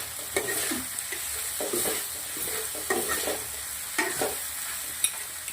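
Maggi butter masala pasta sizzles in a pan while being stirred, with soft scraping and stirring strokes recurring over a steady frying hiss.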